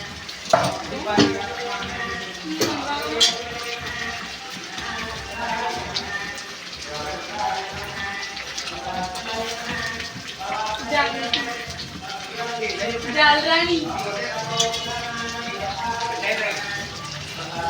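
Pot of koyyinga fish curry boiling on the stove, a constant bubbling, pattering simmer close by, with a person talking over it throughout.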